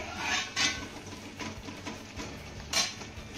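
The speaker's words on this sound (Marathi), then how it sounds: "पुन्हा यावरचं आपल्याला झाकण काढायचंय" A metal lid lifted off a cooking pot of simmering sorghum semolina porridge, a few sharp clinks and scrapes standing out over a quiet kitchen background.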